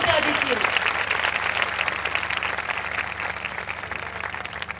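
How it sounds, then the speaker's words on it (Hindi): A church congregation at a prayer meeting applauds loudly; dense, steady clapping fills the room and slowly eases, with some voices mixed in. "जोरदार तालियां बजा दीजिए।"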